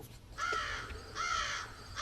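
Two drawn-out, harsh caws from a crow in a tree by a quiet railway station platform, each call nasal and strained, fairly close against a faint background hush.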